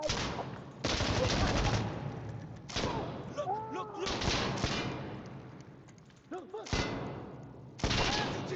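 Gunfire in the game Insurgency Sandstorm comes as loud bursts of shots and booming impacts separated by short lulls, with a voice speaking between the volleys.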